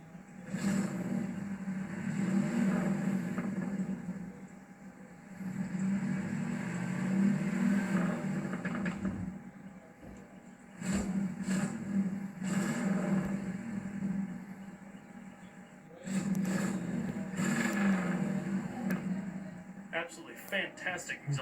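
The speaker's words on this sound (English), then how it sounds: "Absolutely fantastic exhaust note with the duals." A 1965 Ford Fairlane 500 with a 289 V8 and dual exhaust runs with a steady low rumble, rising in several revs and dipping back to idle between them, close by and loud, with someone talking over parts of it.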